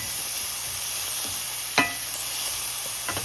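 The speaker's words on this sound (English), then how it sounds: "we're going to stir these until the onions get translucent" Onions and garlic sizzling in a pan, a constant close frying hiss broken by a few sharp scrapes of stirring, with no voices.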